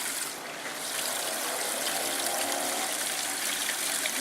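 Water from a pump rushes steadily through a gold-prospecting sluice, a continuous close, bright gushing and trickling wash with no voices.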